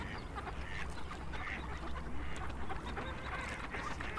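Wintering ducks call on open water, a busy overlapping chorus of quacks and honks from several birds at moderate distance over steady low ambient rumble.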